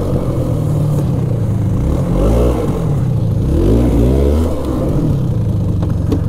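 2000 Polaris Xplorer 400 4x4 ATV engine in low range, loud and close, idling then revving up and down in two swelling surges mid-clip before settling to a steady run, no voices.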